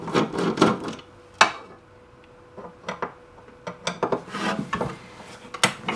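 A screwdriver works machine screws out of a NuTone Model 2557B patio speaker horn, producing close scraping, rasping twists and sharp metallic clicks in an irregular rhythm.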